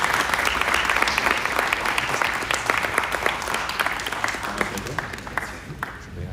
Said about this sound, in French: On peut applaudir le chat, bien sûr.